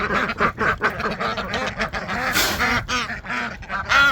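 Ducks quacking loudly and close at a barn, a dense overlapping chorus of raspy calls that continues throughout without pause.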